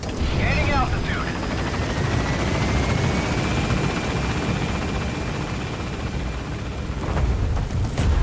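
A B-Quad helicopter from Metal Gear Solid V lifting off from a landing zone, a loud steady rotor roar that fills the whole stretch, with a radio voice speaking over it.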